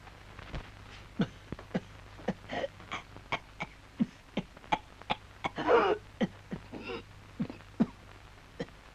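A person coughs repeatedly in a Turkish film scene, with short dry bursts scattered across the stretch and a longer, harsher fit near the middle, close and fairly loud.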